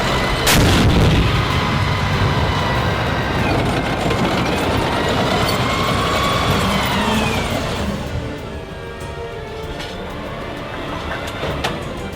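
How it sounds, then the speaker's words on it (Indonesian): An M1 Abrams tank fires its 120 mm main cannon: one massive close blast at the start, followed by a long rumbling echo and mechanical noise that slowly fades. "Meriam 120 mm sangat kuat dan akurat berkat turret yang sepenuhnya distabilkan"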